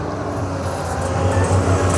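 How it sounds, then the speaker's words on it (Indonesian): A dump truck's engine rumbles near an excavator at a river-dredging site, a steady low drone that swells slightly louder toward the end as the truck pulls in. "Mobil dump truknya pun datang lagi di eskavator Bang Manurung."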